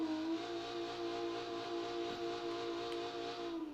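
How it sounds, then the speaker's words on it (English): A Toyota MK4 Supra in BeamNG Drive holds a sustained, loud engine drone during a burnout, its steady high tone running unbroken with no talk over it. "Alright, you guys ready for this massive burnout?"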